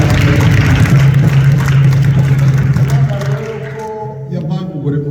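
A church congregation applauds together, a loud, dense burst of clapping close by that fades out after a few seconds, with a voice and low hum underneath.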